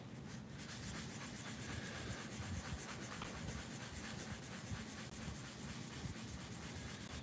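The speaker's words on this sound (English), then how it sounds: "just rubbing it against the card right now, I can feel it smoothing out" A trading card being rubbed to smooth it out, giving a steady, continuous close-up scraping rub that runs the whole time without pause.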